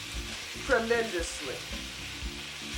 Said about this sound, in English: once you hear that sizzle, you want to turn your fire down extremely low.